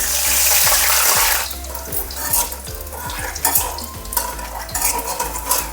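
Garlic dropped into hot oil for a gobi manchurian gravy, giving a loud burst of hiss that settles into steady frying sizzle with light stirring clicks, no voices.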